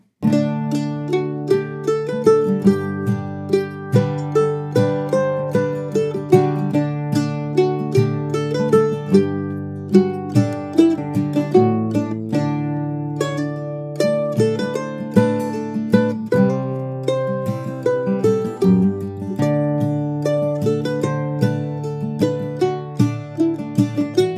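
A bright plucked mandolin plays the old-time tune Charleston Gals, a lively fiddle-style melody with quick picked notes and steady rhythm, solo and close.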